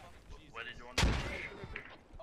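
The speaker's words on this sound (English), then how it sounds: "ooh, a frag rocket" A frag rocket bursts in a loud, close explosion amid scattered gunfire in a team-based military shooter game, the blast dominating the middle before the fire trails off.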